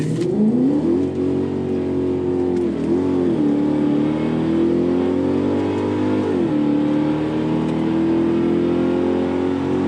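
Infiniti Q45 sedan on new wheels launching hard and accelerating, its engine revving up loudly in long rising sweeps with a brief dip at a shift, close and steady with no talk.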